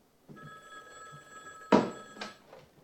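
A telephone rings in a TV drama scene, a steady electronic tone with a louder burst near the end, fairly quiet and without talk.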